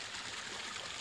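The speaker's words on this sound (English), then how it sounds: "That sounds just like an outback waterfall." Cartoon flowing water like an outback waterfall, a steady soft rushing and trickling wash, continuous and fairly quiet with no talk over it.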